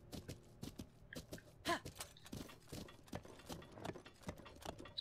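A horse in Zelda: Breath of the Wild walks with soft, uneven clip-clop hoofbeats repeating steadily and quietly throughout, with faint creaks and tack jingles mixed in and no talking.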